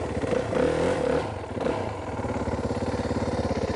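A dirt bike engine runs at low speed while the rider slips the clutch, a close, steady low putter that swells slightly early on, then settles into an even, rhythmic chug.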